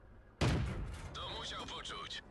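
One heavy booming tank cannon blast from World of Tanks, loud and close, followed by a decaying rumble and faint electronic tones.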